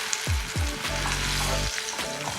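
Pakora batter dropping into hot oil for masala kadhi pakoda, a steady close sizzle with a few low bubbling bursts and a sustained hum in the middle, brief and without talk.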